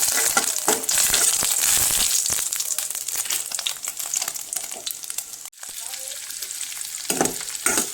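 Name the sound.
finely chopped garlic frying in hot oil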